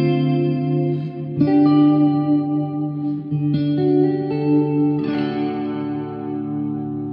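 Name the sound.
electric guitar with Jazzmaster-type tremolo arm, ambient effects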